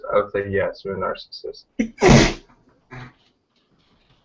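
A single loud, close sneeze bursts out after a man finishes a short spoken sentence, and a brief quiet murmur follows.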